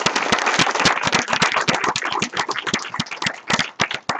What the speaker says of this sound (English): Let's give Max a round of applause here.